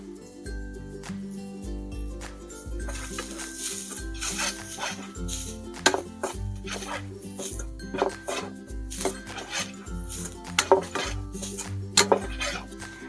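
Grated coconut and onion roast in a pot over a wood-fired stove while a metal spoon scrapes and clinks against the pot in irregular strokes, close and moderately loud under a faint crackle, with no talking.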